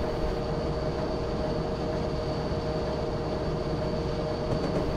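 A freight train in Train Simulator 2021 runs at about 70 miles per hour, a loud continuous rumble and rolling roar with a steady high whine, heard from the cab with no pauses.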